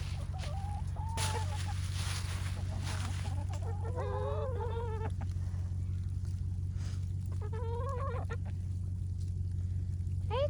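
Backyard hens in their first winter snow in East Tennessee cluck and call in a few short bursts, faint over a steady low hum.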